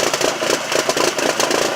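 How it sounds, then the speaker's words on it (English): A turbocharged 2003 VW Passat 1.8T with an aggressive cam, idling with a lumpy, uneven throb that pulses rhythmically, close and fairly loud, with no talk. "Let's listen to this cam he's got going on."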